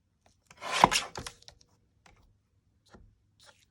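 Scissors snipping fabric for a fabric and paper collage: one brief, close rasping cut, followed by a few faint scattered clicks and rustles in near silence.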